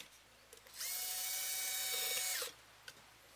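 A power drill whines steadily for about a second and a half while backing out pickup screws from a left-handed Fender Stratocaster-style partscaster, close and loud, with faint handling clicks before and after.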